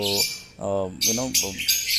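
Bright, high chirps and twitters from several lovebirds in an aviary come in bursts, close by, overlapping with someone talking.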